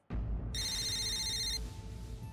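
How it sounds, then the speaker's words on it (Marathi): A phone rings indoors with a single bright electronic ring burst that starts abruptly and stops after about a second, leaving a faint fading tone and quiet room hiss. "श्रीचा फोन"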